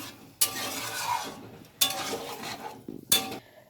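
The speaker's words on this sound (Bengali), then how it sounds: "ভালো করে ডালের সাথে দেখো সবজিটা মিশিয়ে দিচ্ছি।" Boiled moong dal with cauliflower and beans being stirred together in a pan, with three sharp scraping clinks of a spoon against metal over a soft, steady sizzle.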